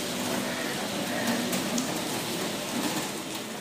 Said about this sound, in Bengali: হঠাৎ করে ঝমঝমিয়ে বৃষ্টি, এই যে বৃষ্টি নেমে গেছে